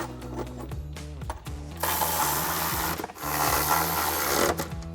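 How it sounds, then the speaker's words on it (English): Ratchet with a 13mm socket tightening running board bracket bolts on a 2022-2025 Toyota Tundra: loud, close, rapid mechanical clicking and whirring that runs almost continuously, with tonal hum beneath and no speech. "Same thing, ratchet, 13mm socket, tighten them down."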